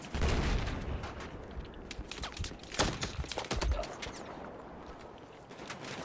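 Dense bursts of automatic gunfire and booming shots rattle through a Battlefield 4 firefight, loud and continuous, with overlapping rapid volleys and no clear talk.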